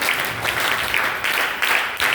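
Applause from an audience at a Kerala Piravi celebration, a dense wash of many hands clapping, steady and fairly loud throughout the short stretch.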